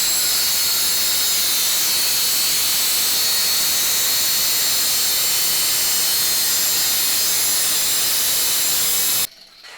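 A 4.5-inch angle grinder cuts through Doug Thorley exhaust header tubing for a K5 Blazer, giving a loud, steady, close-up hiss and roar for about nine seconds before the cut stops abruptly.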